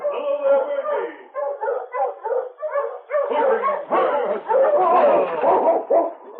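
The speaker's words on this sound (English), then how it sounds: "he heard another team of Huskies approaching along the main street of town" Sled dogs from an approaching team of huskies bark and yip in a busy, overlapping chorus of short calls and whimpers on a town's main street, close and loud throughout.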